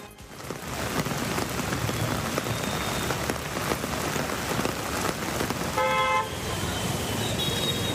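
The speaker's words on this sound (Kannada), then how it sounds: "ಗುಜರಾತ್ನ ಸೂರತ್ ಪ್ರದೇಶದಲ್ಲಿ ಭಾರೀ ಮಳೆಯಾಗಿದೆ." Heavy rain pours down steadily on a street in Surat, Gujarat, a loud continuous hiss of drops with passing traffic and a brief car horn toot partway through.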